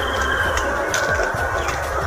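Chickens at a poultry farm keep up a steady, close mix of clucking and fowl calls over constant background noise, with no one speaking.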